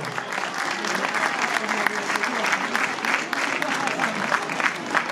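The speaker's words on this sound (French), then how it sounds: "Applaudissements!" A crowd at the Hospices de Nuits wine auction applauds loudly, with sharp claps and some cheering mixed in, sustained throughout.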